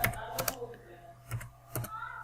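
Keys on a computer keyboard are pressed in a few quick, soft, uneven taps, close and quiet, with a low background hum.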